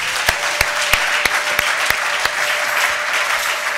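A church congregation claps in steady, rhythmic unison to acclaim the Lord, a dense sheet of applause with regular sharp beats and no talk over it.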